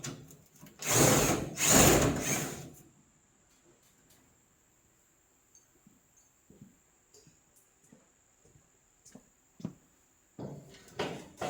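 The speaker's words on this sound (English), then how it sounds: "get these screws out and get this cowl plate out of the way" Power drill backing screws out of the cowl plate on a 1970 Mach 1, two short loud whirring bursts near the start, then quiet clicks and handling noises before another brief burst at the end.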